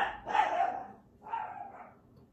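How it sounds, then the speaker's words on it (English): A dog growls and barks in two drawn-out, rough bursts about a second apart, close and fairly loud, with no talking. "Half this video is Marley growling on the kill."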